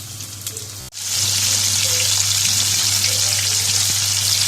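Zinger chicken pieces deep frying in hot oil until golden, giving a loud, steady, close crackling sizzle that starts after a brief thud and continues without talk.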